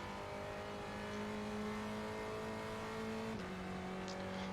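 A Spec Racer Ford race car in iRacing at Sebring hums steadily at high revs with a drawn-out engine tone, then a quick drop in pitch at a gear change near the end, heard from inside the car with no talk.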